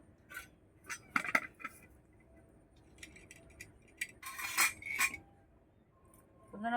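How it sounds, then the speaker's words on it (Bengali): Pointed gourd (potol) being sliced with a knife in a home kitchen, giving a quiet series of short, sharp clicks and taps against a board and utensils, with faint clinks and scrapes scattered between. "দেখুন কিভাবে আমি পটলগুলো কেটে নিচ্ছি"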